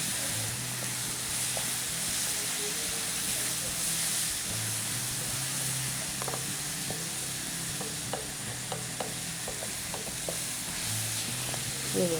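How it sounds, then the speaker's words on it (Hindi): Food pieces frying in a pan on a cooking show, a steady broadband sizzle running throughout with occasional faint stirring clicks and a low background hum, no speech over it. "इसे हमने 2 से 3 मिनट फ्राई करना है"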